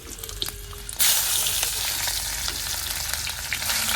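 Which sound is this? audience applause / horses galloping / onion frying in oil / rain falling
onion frying in oil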